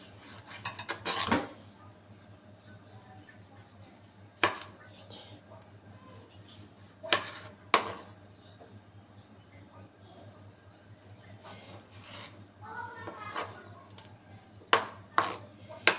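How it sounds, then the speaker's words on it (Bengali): A knife chops tomatoes on a board with sparse, sharp individual cuts spaced several seconds apart. The cuts are close and crisp over a low steady hum, with soft rubbing between strokes. "টমেটোগুলো আমি কেটে নিব"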